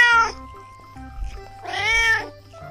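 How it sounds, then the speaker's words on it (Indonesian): A cat meows twice, loud and close, with a short call at the start and a longer, wavering meow near the end, separated by quiet low rumble. "ternyata di dalamnya ada kucing."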